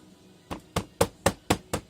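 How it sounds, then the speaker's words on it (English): Hammering to compact foundry sand into a casting mold for a double leaf sand casting, six sharp, evenly spaced blows about a quarter second apart, close and solid, with no talk. "start hammering this in. You want to compact it in there really well."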